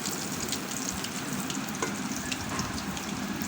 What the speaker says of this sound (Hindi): तो ये तड़का डालते हैं